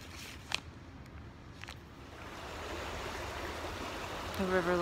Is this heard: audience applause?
no